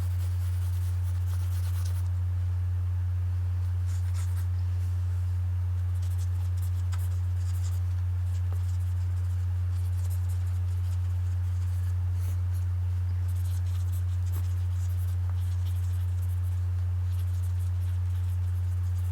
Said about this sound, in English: draw this in